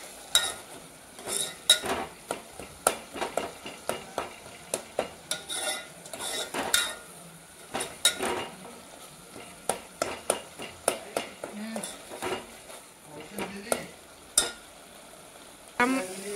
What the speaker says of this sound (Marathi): आता आपण मस्त पालक एकजीव करून घ्यायची. मस्त पैकी तेल सुटलेलं आहे.